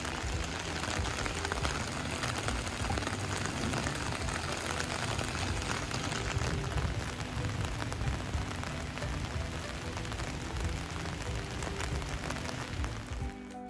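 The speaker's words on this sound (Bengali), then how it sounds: "ছাতাতে বৃষ্টি পড়ছিল আর খুবই সাউন্ড হচ্ছিল।" Rain drums steadily on an umbrella during a downpour at a hilly fish hatchery, a dense, even patter that stays close and constant throughout.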